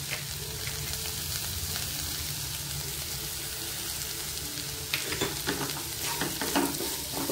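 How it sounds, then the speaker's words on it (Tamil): Beans and carrot with cauliflower sautéing in a hot pan for oats upma, a constant close sizzle, with stirring scrapes and clatter picking up near the end. "இப்போ இதையும் கொஞ்சம் வதக்கிக்கலாம்."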